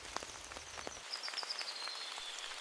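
Light rain falling after a storm, faint scattered droplets pattering on wet ground and puddles, with a soft hiss and a thin high chirp in the background.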